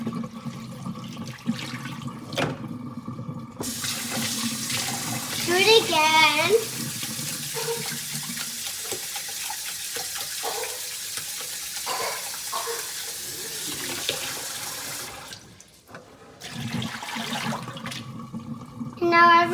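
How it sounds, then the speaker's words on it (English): Tap water runs and splashes into a kitchen sink while rice is rinsed and swirled, a steady hiss broken by sloshing and draining, with a voice speaking briefly over it. "swirl your sink around if it has a little water, and then dump it out again"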